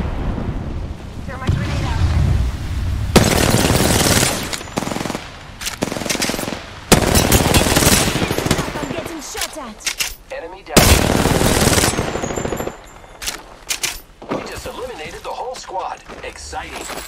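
Bursts of rapid automatic gunfire and explosions in the video game Apex Legends come loud and close, separated by short lulls, with a voice speaking briefly between the volleys.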